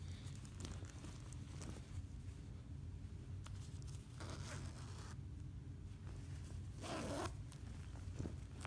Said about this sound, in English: Zippers feel good on the pockets.